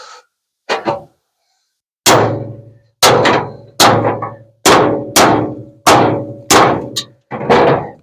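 Heavy hammer blows ring out on the metal cab mount of a Ford F1 truck, seven loud clanging strikes at a steady pace after a couple of lighter taps, each with a short ringing decay.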